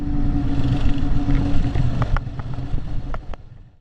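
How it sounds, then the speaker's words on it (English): Small single-seat Scorpion go-karts running at Rainbows End theme park, a steady loud engine drone with buzzing revs and a few sharp clacks, close by and without talk. "Scorpion Go Karts"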